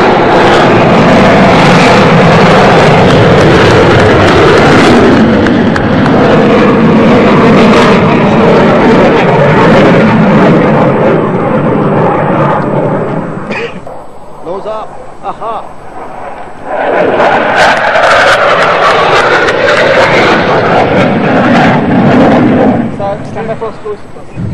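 A MiG-29 fighter jet roars past during a Victory Day parade, a loud sustained broadband rush that dips briefly mid-pass then swells again, with crowd and announcer voices underneath.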